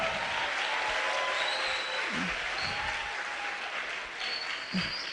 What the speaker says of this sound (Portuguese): queria aplaudir a ele.